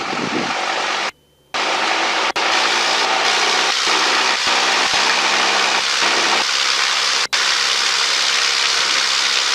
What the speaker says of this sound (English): throttle goes to 1800. Engine's gonna go fast now.